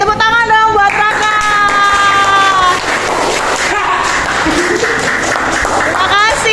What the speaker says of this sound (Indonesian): Oke, tepuk tangan dong buat Raka.